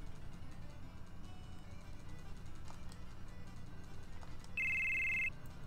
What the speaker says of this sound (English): Oh no, it's a phone call.